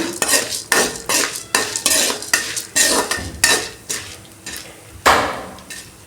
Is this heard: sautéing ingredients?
yes